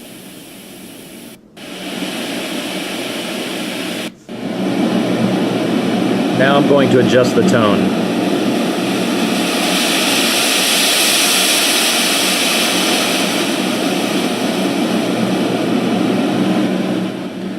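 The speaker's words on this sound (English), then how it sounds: "if you toggle through the white noise sounds, there's those 4 sounds" A HoMedics Deep Sleep sound machine plays steady broadband white noise that shifts in tone partway through, loud and continuous, with someone talking briefly at the start.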